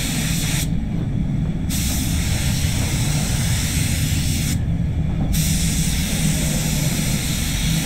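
A SATA CC 1.3 spray gun lays clear coat on a Nissan Patrol during a full respray, giving a loud, continuous close hiss with two short pauses between passes.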